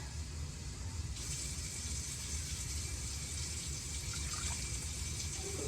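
Water poured from a cup into a pan holding sugar and cornstarch, a faint, steady splashing trickle that brightens after a second and runs on without talk.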